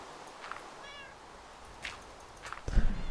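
A cat in the video game Minecraft gives a few soft, short meows against a quiet background, followed by a louder bump near the end.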